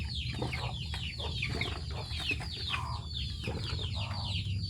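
Chicks and chickens on a provincial poultry farm make dense, overlapping peeping and clucking close by, a busy chorus that runs steadily with no talk.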